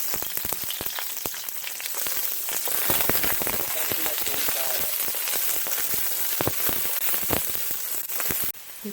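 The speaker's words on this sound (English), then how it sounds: "I chopped up some onion to go into my wok. I got my hot wok, adding just a little bit of avocado" Red onions sizzle steadily in a hot wok with a little avocado oil, a loud continuous crackle with occasional pops and stirring clicks, no voices.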